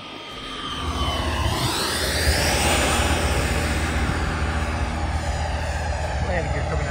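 An XFly 80mm T-7A Red Hawk RC electric ducted-fan jet makes a slow pass, its whooshing whine swelling loudly as it approaches overhead and then sliding down in pitch as it moves away.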